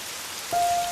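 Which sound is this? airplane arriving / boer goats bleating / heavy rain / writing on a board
heavy rain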